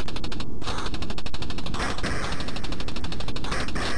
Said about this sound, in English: He's getting shot and shot and shot.